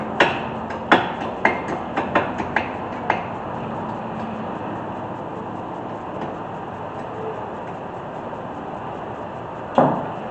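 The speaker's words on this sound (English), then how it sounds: "use a hammer to tap it back in" A hammer taps a front brake part of a 2012 Mazda 5 back into place: a quick run of about eight close metallic knocks, then quiet, then one last tap.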